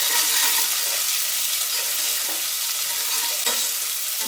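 Finely chopped onion fries in a pan for a palak and green gram dal curry, a loud, continuous sizzle with occasional stirring scrapes, heard alone.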